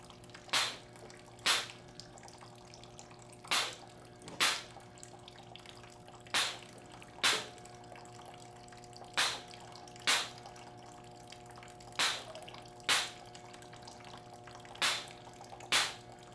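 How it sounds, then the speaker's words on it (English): Syrup line pump drawing sanitizing water, actuating in sharp periodic clicks roughly once a second with short gaps and a low steady hum underneath, near and fairly quiet. "the pump's gonna start looking for product that isn't there. So it's gonna start actuating faster and longer"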